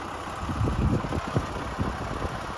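An MTZ 892 tractor working hard as it pulls a KPS 4.2 cultivator through soft field soil on a first spring pass, its engine giving a steady, loaded mid-pitched drone with rough low rumble, fairly close and continuous.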